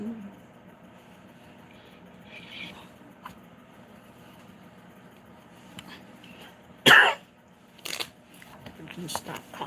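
A quiet room is broken by one sudden loud cough, followed by a couple of softer coughs or throat noises.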